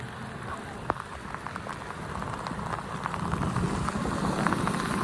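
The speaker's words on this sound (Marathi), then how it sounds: "कारण की खूप पाऊस आहे." Heavy rain pours steadily outdoors, a dense hiss of drops striking surfaces with scattered sharper splashes, growing a bit louder toward the end.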